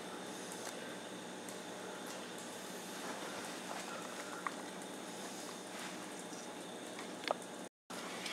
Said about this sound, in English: So now I'm waiting for it to fry on the one side.